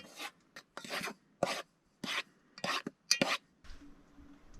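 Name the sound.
stirring dough ingredients in a bowl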